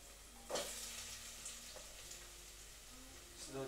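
Onions added to garlic in a hot pan for a sweet potato curry set up a steady, fairly quiet sizzle that runs throughout, with a couple of sharper clatters from stirring and faint background voices.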